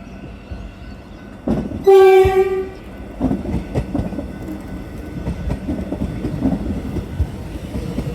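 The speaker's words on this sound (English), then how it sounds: "So we take a look at this train stopping right now" A three-carriage suburban train on the Belgrave Line sounds a loud horn blast, then rumbles and clatters nearby as it slows into a station.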